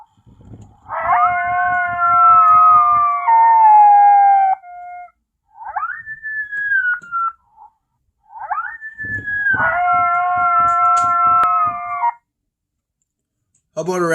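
Male coyote howl played through a Lucky Duck Rebel electronic predator caller: long sustained harmonic howls with pulsing undertones, separated by shorter rising yips, loud and close, repeated in a pattern.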